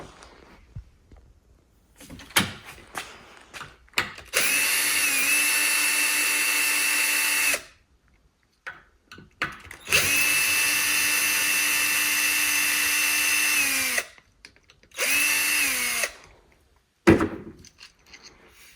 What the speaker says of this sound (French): Là, on va enlever ces deux vis là.